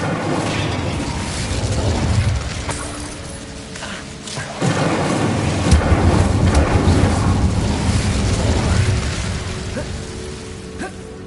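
A fire spell blast in Hogwarts Legacy bursts out as a loud, broadband roaring whoosh with a deep rumbling body, surging again partway through and sustaining under steady wind-like noise.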